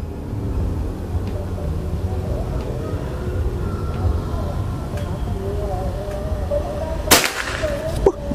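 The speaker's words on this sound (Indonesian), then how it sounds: "Tembakan kedua." A PCP Predator air rifle fires a sharp, close crack near the end, followed about a second later by a smaller snap, over a steady low outdoor murmur.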